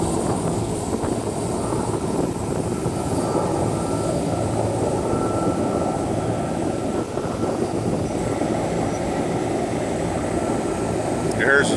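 Aerial firefighting aircraft taking off from a runway at Fox Field in Lancaster, California, giving a steady, loud engine roar that holds throughout from close by on the tarmac.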